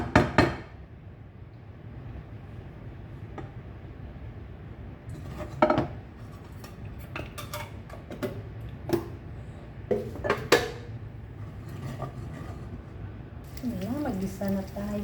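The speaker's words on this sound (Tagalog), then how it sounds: "Ayan, mag-gisa na tayo." Chicken hearts sauté with lemongrass, ginger, garlic and onion in a home kitchen pan, giving a low, steady sizzle broken by scattered sharp clanks of a utensil against the pan, with a voice near the end.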